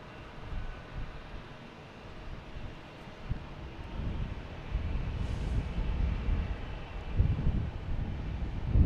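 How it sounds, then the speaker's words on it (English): Steady wind buffeting an outdoor microphone at Boston Logan Airport, a low rumbling roar that swells and gusts gradually louder, with no voices. "Comes that wind again. I don't feel it, but I just hear it."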